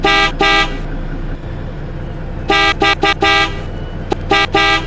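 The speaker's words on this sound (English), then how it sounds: "Can you hear me toot my horn?" Bus horn in the Roblox game Plymouth Bus Simulator, loud and close: two short toots, a pause, then a quick burst of several more toots, over a low steady engine hum with no talking.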